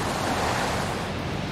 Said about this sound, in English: the waves and the ocean are so powerful.